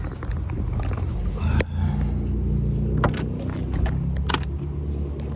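A BMW 135i with an N55 engine and a failed clutch pulls away on throttle alone, a low engine drone inside the cabin with a few clunks and rattles.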